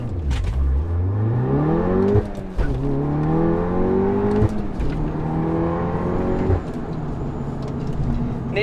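APR Stage 2 tuned VW Golf R pulls hard from a standstill to 60. The engine note climbs steeply through each gear, with three brief dips at the shifts, loud and constant from inside the car.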